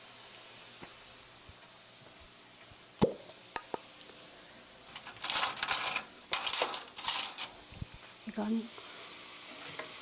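Stir-frying in two tablespoons of grapeseed oil to start chili oil: scattered clinks of a utensil against the pan, then bursts of sizzling as ingredients hit the hot oil, with someone speaking softly between.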